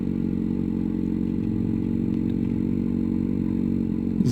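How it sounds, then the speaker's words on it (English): A motorcycle engine idles steadily during a slow U-turn on a road, a constant low burbling hum with faint clattering and a small bump near the end. "Is the bike running still?"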